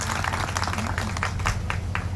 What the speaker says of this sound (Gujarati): આજુબાજુ બધા ગામના વડીલો અને માતાઓ માટે તાળી પાડો પાડો